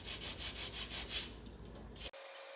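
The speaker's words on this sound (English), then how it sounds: "So I just got a sanding 80 grit." 80-grit sandpaper rubbed by hand over a glued scarf joint in cedar strip kayak planking, a series of rhythmic back-and-forth scrubbing strokes that stops abruptly near the end.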